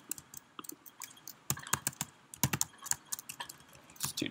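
Fingers type Python code on a computer keyboard during a data analysis lesson, quiet irregular clicks that come in a sparse patter and then in faster bursts.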